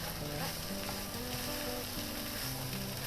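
Caramelised beef mince, returned to a pan with leeks, onions and tomato puree, sizzles loudly and continuously as it is stirred through, with no talking.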